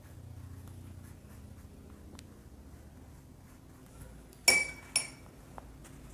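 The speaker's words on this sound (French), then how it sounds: "j'ai nettoyé le pinceau" A paintbrush rinsed in a glass of water during a watercolour session, giving two sharp clinks of the brush against the glass late on after a quiet stretch.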